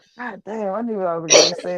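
A person sneezes once, a sharp burst in the middle of a man's ongoing speech, with his talking continuing right before and after it.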